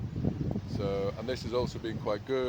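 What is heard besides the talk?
wind blowing into the microphone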